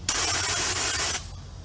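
A loud, steady hiss of a bear spray canister discharging low in one continuous burst of just over a second, then cutting off to quiet.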